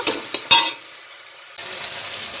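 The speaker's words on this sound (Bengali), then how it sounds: "টমেটোমটা ভালো করে ভেজে নেব" Chopped tomatoes with salt frying in a pan, with a few sharp clinks of a spoon against the pan at the start. A steady, quiet sizzle follows and grows slightly louder near the end.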